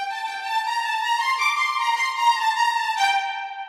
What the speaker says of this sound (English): now when we go ahead and we add the Appassionata strings, it gives so much life to this